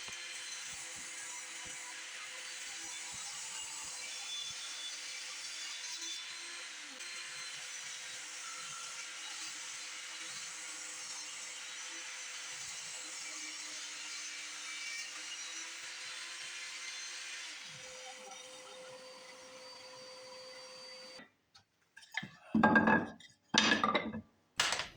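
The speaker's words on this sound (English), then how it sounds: "With the table saw, we cut the stock down to width, a couple pieces at 1 inch and some at 3/4." A table saw rips scrap 1x wood stock down to width, a steady faint motor hum with a long continuous cut, followed by brief sharp knocks and clatter as pieces are handled.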